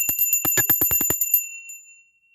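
A small bell rings rapidly in an even series of about a dozen bright strikes during a money ritual, then the ringing decays into silence.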